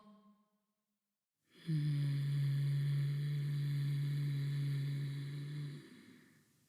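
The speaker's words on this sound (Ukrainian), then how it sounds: "Видихніть зі звуком" A person breathes out audibly with a low, steady hummed voiced tone during a breathing exercise. The single sustained exhale lasts about four seconds, close and clear, with silence before it.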